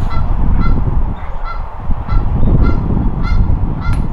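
Loud goose honking close by outdoors during a golf outing, a series of repeated harsh honks in an irregular rhythm over a background murmur.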